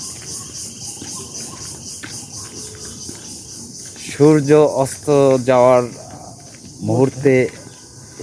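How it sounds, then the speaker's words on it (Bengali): Crickets chirp in a steady, dense high drone along a village road near Manikganj at sunset. It runs throughout, and people begin talking over it partway through. "ঝিঝি পোকার শব্দ ভিডিও করছি"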